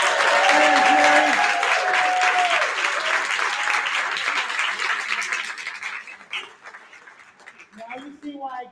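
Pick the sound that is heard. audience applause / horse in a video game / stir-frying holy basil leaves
audience applause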